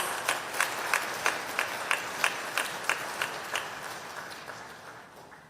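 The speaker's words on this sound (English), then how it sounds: "Please welcome him with a warm round of applause." Audience applause at a forum in Taiwan, a broad wash of clapping with regularly spaced louder claps pulsing through it, fading gradually toward the end.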